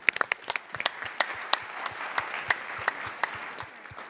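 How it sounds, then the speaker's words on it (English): Conference audience applause at a tech startup event, a thin scatter of distinct individual claps over a soft bed of clapping, moderately loud and with no talk. "Give them a round of applause."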